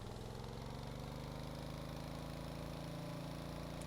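An engine in the Stormworks game throttles up to charge the batteries, giving a steady, close mechanical hum whose tone creeps gradually upward over a few seconds.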